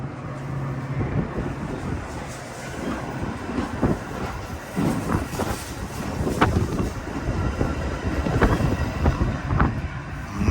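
A Metra commuter train rolls through LaGrange Road station in LaGrange, Illinois, on a February evening, a loud continuous rumble and rattle of railcars with wind buffeting the microphone throughout.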